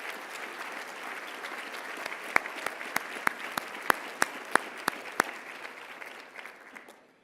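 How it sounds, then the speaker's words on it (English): Applause from a seated crowd at a hall of fame event, a soft continuous patter with several sharp, close individual claps standing out at intervals, fading away at the end. "have a round of applause"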